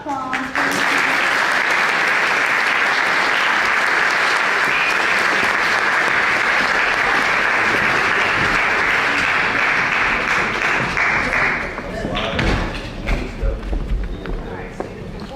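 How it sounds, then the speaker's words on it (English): Loud, sustained audience applause fills a school hall during an evening school concert event, steady dense clapping for about twelve seconds before fading into scattered claps, with voices and shuffling under it. "So big applause."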